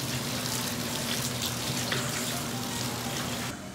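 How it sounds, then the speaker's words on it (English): Potatoes being washed under a running kitchen tap, a steady close hiss of flowing water that stops abruptly at the end. "we're going to wash them first because we can't use dirty potatoes"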